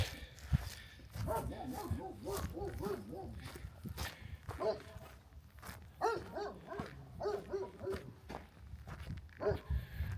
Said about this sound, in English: The dog's obviously guarding these goats here.